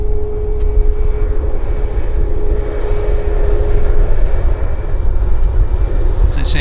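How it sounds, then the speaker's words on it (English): A WestJet airliner in new colors taxis at Vancouver Airport, its jet engines producing a loud, steady roar with a faint whine, close by and continuous. "Westjet new colors rolls out nicely right in front of us."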